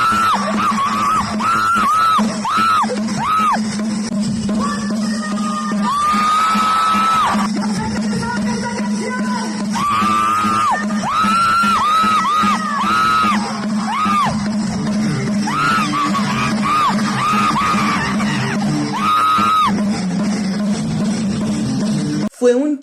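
A rock concert, with the crowd screaming and yelling continuously over loud live music, close and saturated throughout, with a sharp knock at the very end.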